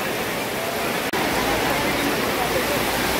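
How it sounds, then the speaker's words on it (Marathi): Heavy downpour pounds a weekly open-air market in Yavat, a dense, loud, continuous roar of rain with a brief dropout near the start, voices faint beneath. "आठवड्या बाजारात आज ना मुसळधार पाऊस पाणी."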